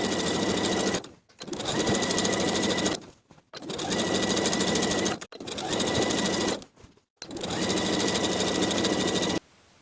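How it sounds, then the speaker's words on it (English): A sewing machine edge stitches a skirt hem in steady buzzing bursts, stopping briefly between four long runs of rapid stitching, close and loud. "I can take it to the sewing machine and edge stitch close to that upper inner fold"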